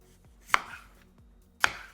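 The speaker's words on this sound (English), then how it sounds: "you are going to cut them into thinly sliced, about 1/2 inch." Two sharp, close knife chops a little over a second apart as a sweet potato is sliced on a cutting board, with no voices.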